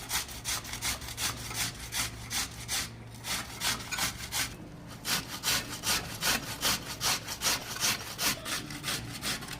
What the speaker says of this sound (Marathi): ही आपल्याला या किसणीने बटाटे किसून घ्यायचे.